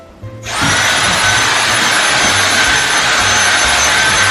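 A household vacuum cleaner switches on after a brief moment and settles into a loud, steady, close roar that holds unchanged to the end, with no talking over it.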